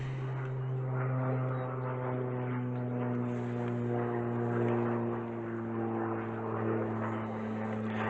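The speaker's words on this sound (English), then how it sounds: "We'll just pause while the aeroplane goes overhead." An aeroplane passes overhead above a garden of bonsai benches in spring, its steady propeller-like droning hum holding fairly loud and even throughout with no voices.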